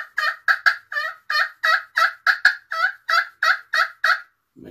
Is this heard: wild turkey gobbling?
yes